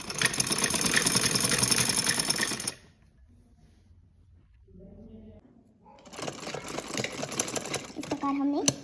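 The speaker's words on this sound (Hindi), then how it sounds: "वैसे यहाँ पे रखते हुए सिलाई लगा देंगे।" Sewing machine stitching a frock suit, running in a fast, steady whir for nearly three seconds, stopping through a quiet gap with faint handling noise, then starting again with the same rapid, close mechanical stitching.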